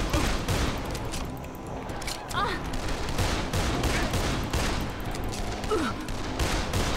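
Gunfire in the zombie video game Dead Island, dense bursts of rapid shots under constant game noise, with a voice exclaiming briefly.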